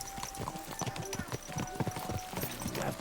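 Horse hooves clip-clop in a steady, quick rhythm while riding in the video game Kingdom Come: Deliverance 2, fairly close and mixed with talk and other noise.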